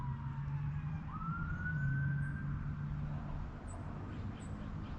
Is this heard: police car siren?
yes